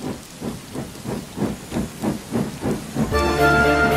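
A steam locomotive chuffs in a steady, rhythmic series of about seven puffs, then breaks into a loud, sustained hissing whistle-like release of steam at the end.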